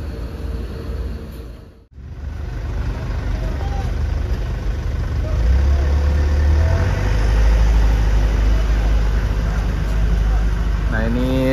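Restu Mulia Jetbus coaches idle and creep forward as they board a ferry, a steady low diesel rumble that swells louder partway through, with people talking over the engine noise.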